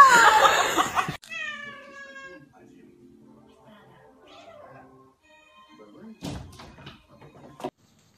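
A house cat lets out a loud, drawn-out complaining meow aimed at a new family member, then falls quiet before a sharp thud and a brief exclaiming voice near the end.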